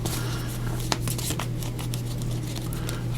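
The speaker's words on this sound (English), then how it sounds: "Just give this a little shuffle." Crystal Medicine Oracle cards shuffled by hand, a steady papery rustle and riffle with soft card slaps running continuously, close up, under a low steady hum.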